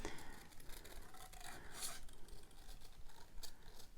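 Scissors snip through paper pieces of a planner collage kit, a close, steady run of soft cutting and rustling strokes with no talking.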